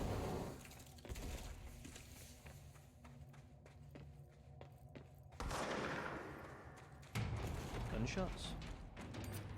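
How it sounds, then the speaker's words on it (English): Bursts of rapid video game gunfire from the game Control crackle in quick volleys over steady background noise, with a few louder single shots near the end. "Gunshots."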